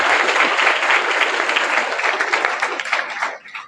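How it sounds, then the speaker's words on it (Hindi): Enthusiastic audience applause at a school New Year speech fills the room in a dense, loud wash of many hands, tapering off toward the end. "और एक बार जोरदार तालियां बजाएं"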